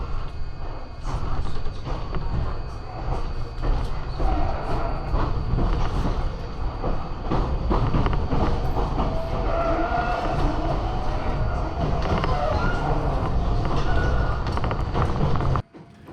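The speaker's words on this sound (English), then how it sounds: "It looked very familiar train, and it was a Keio Inokashira line connecting Tokyo's Shibuya to Kichijoji." Iyotetsu train, a former Keio Inokashira line set, running through Matsuyama, its steady loud rumble and rail rattle filling the scene from start to stop, with a few clicks over the wheel noise.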